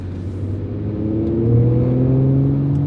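2019 Audi RS5 Coupe V6 engine growling deep and steady as it accelerates near 160 km/h, the pitch climbing smoothly over a few seconds, close and loud with no talk.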